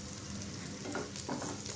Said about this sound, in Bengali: নাড়াচাড়া করে ভেজে নেব যাতে করে পুড়ে না যায়